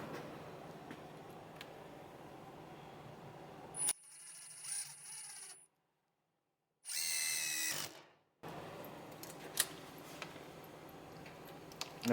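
A less powerful Metabo HPT DEX driver sinks a screw into pine end grain, a steady buzzing drive that cuts off abruptly, followed by a short silence and a brief sharp burst of rattling impact.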